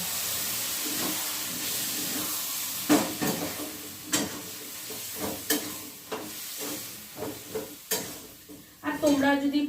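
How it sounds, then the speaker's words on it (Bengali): Lentil dumplings (bori) fry in oil with a soft sizzle while a spatula stirs and knocks against the pan in irregular scrapes and clacks; a brief hissing burst comes near the end. "বড়িটা দেখছি যে লাল লাল করে ভাজা হয়ে গেছে"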